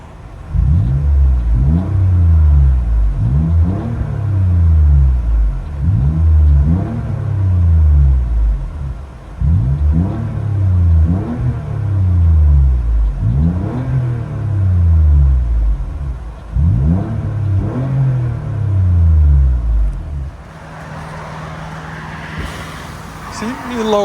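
Engine of a 2012 Toyota Sienna minivan with a muffler delete, heard from inside the cabin: a loud, deep rumble rising and falling in repeated revs, followed by a steadier drone at the end.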